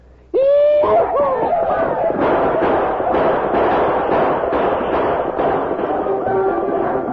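Radio drama attack on a fort by Apache braves, with a burst of shouting and yelling voices that breaks into a loud, chaotic din of shots and thuds lasting several seconds.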